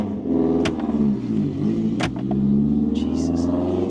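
A car engine revs hard, its intake drawing a deep, throaty roar close to the microphone, rising and falling across a few seconds with sharp mechanical pops and whooshes layered over the rumble.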